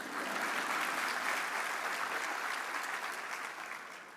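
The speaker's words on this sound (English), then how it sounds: "you can clap if you want, please." Audience at a School of Healthcare Sciences declaration ceremony applauds in a steady, dense wash of clapping that holds evenly for a few seconds before starting to taper off.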